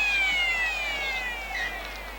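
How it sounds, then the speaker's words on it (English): Full-time siren at a 1992 Brisbane Rugby League match between Norths Devils and Logan City Scorpions at Bishop Park: a steady, slowly falling electronic wail heard from a distance over crowd noise, with no talking. "Full-time siren sounds as the last tackle of the match is made"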